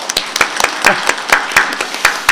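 Congregation applause at a Christmas worship service in a Korean church in Gunsan: a steady run of sharp, close hand claps at an uneven rhythm, fairly sparse rather than a dense ovation, with no talk over it.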